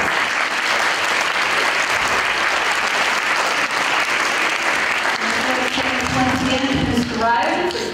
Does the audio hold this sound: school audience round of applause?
yes